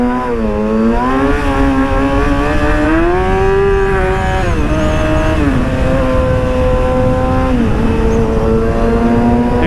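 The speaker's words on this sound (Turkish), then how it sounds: "Motorun sesini burada dinleyeceğiz." A Yamaha R6 motorcycle with its muffler removed roars loudly while riding, the raw exhaust note climbing and dropping through gear changes and shifting revs, continuous and close with no talking.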